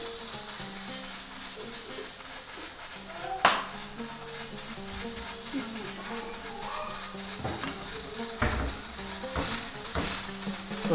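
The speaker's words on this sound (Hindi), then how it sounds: "अभी ये फ्राइज जल रहे हैं, अभी फ्राइज ऑलमोस्ट रेडी हो चुके हैं।" Fries sizzle steadily in a pan with seekh kebab masala added, punctuated by occasional sharp scrapes and clinks of a utensil stirring against the metal; a voice speaks faintly now and then in the background.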